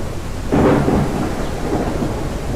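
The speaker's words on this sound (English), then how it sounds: "After this damn storm." Thunder rolls through a steady rainstorm in the survival game Humanitz, with a loud rumbling swell near the start that fades back into continuous rain and a second, softer rumble toward the end.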